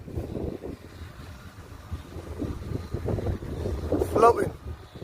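Wind blows at about eight miles per hour across an open field where a small E-flite Ultrix foam RC plane is being flown, a steady low buffeting rumble against the microphone under nearby talking.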